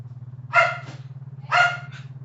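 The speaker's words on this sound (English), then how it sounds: "Nugget, you can't just bark your head off just because the cat's making" A pet dog named Nugget barks twice in quick succession, sharp close yelps about a second apart over a steady low electrical hum, with no talking.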